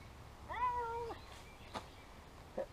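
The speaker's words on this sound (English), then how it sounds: "That was Larry the Cat." A house cat gives a single clear, close meow lasting under a second, followed by a few faint shuffling sounds in a quiet room.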